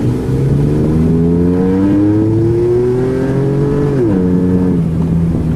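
A 1999 Pontiac Firebird engine revs loud and close, its pitch climbing steadily for several seconds before dropping on a shift and carrying on at a steady drone.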